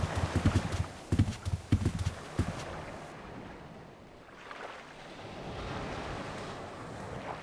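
Horse hooves clip-clopping in a quick, uneven run of strikes over the first two and a half seconds, then fading into a steady wash of waves or wind.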